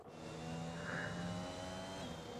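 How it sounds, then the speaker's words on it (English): Formula 1 V6 engines in the F1 2021 racing game at the Austrian Grand Prix: a steady, buzzing engine drone with a faint higher whine, moderately distant and continuous, no clear pass-by. "Trying to hear these beautiful V6 Formula 1 engines."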